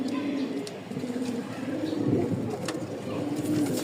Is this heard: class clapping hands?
no